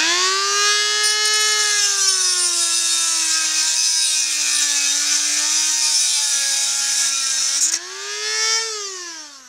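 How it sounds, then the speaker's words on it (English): Dremel high-speed cutter grinding through a metal stretch-stitch fork on a Singer Model 750 Golden Touch & Sew, a loud sustained high whine with a pitch dip near the end. "We use a Dremel tool,"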